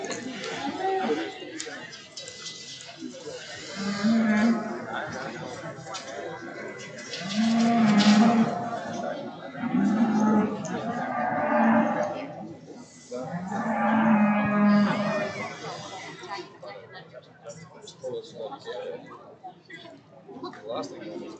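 Angus and Speckle Park cattle moo several times in a show ring, with drawn-out low calls rising over steady crowd chatter and a voice talking.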